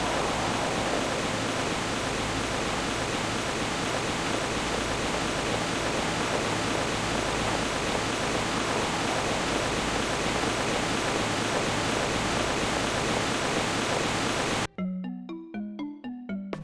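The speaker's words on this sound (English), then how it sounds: "the waterfall is very loud" Roaring wall of falling water from a waterfall in a JRPG video game, loud and steady for about fifteen seconds, then it stops abruptly and gives way to a short melodic chime.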